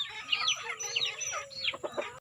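Broiler chickens cluck in a close, busy cluster at home in the afternoon, with several overlapping calls and short rising squawks in quick succession.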